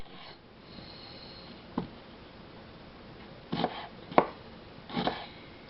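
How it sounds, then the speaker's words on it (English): A knife thinly slices sprouting onions on a board for French onion soup, giving four or five sparse, distinct cutting thuds over a quiet background with no talk. "go ahead and thinly slice about 6 of your onions"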